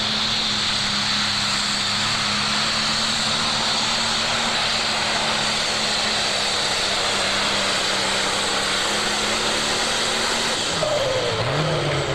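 A John Deere pro stock pulling tractor engine roars loud and steady at a 1988 Ohio State Fair pull, holding a constant high drone throughout before the pitch shifts and drops near the end.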